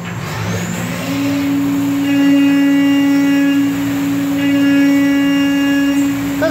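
CNC machine slotting aluminum with a 1/2-inch three-flute helical rougher: a loud, sustained tonal whine that ramps up in the first second, then holds steady with faint fluctuating overtones throughout.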